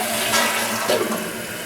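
Toilet tank refilling through a newly installed fill valve, a close, steady rush of water hissing into the tank with slight gurgles, no talk.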